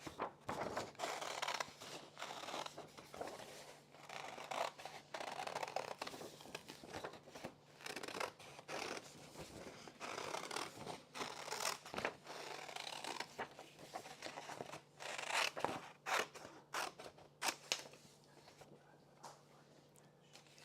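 Scissors snipping freehand through paper to cut out a heart shape, a series of quiet, irregular crisp cuts and rustles at close range.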